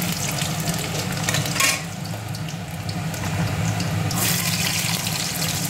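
Chicken fries in a pan with onion and garlic, a steady close sizzle with bursts of louder spitting and hissing as the food is stirred.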